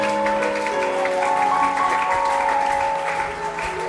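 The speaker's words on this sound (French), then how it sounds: "Acclamons très fort pour le Seigneur" A church congregation claps loudly for the Lord, a steady dense wash of applause over sustained music.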